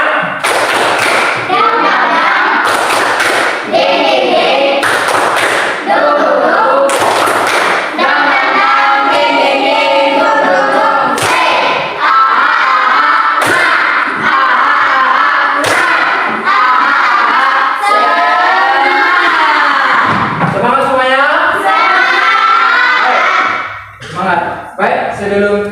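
A classroom of children clapping out the rhythmic 'tepuk semangat' routine together, loud, sharp claps in bursts over the first several seconds, mixed with the group chanting and voices throughout.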